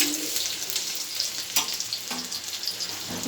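Ginger and garlic for singara filling fry in hot oil, giving a bright hissing sizzle while a spoon stirs with a few scraping knocks, close and steady throughout the short stretch, with no voices.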